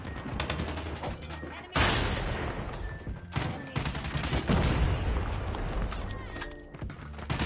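Rapid bursts of LK24 rifle fire in Call of Duty Mobile, dense automatic rattling that runs almost continuously with brief pauses, mixed with game effects and footsteps.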